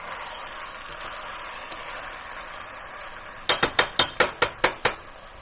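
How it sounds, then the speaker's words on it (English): A spoon stirring chicken tinola in a cooking pot gives a quick series of about seven bright metallic clinks against the pot, close and crisp, after a few seconds of low simmering hiss. "Stir it up a little bit more"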